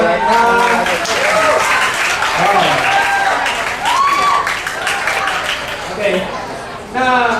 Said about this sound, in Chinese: 我们给他一个掌声，我们欢迎他。